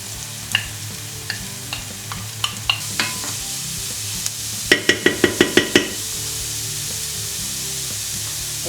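Carrot goes into a pan of softened onion and sautés with a steady sizzle, while a spoon taps and scrapes the pan in a quick run of clicks midway.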